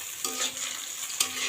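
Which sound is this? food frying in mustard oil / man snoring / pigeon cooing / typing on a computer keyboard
food frying in mustard oil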